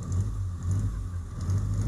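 A 1952 side-valve car engine runs steadily at close range, a low rumbling idle that swells and eases slightly in a gentle rhythm, with no talk.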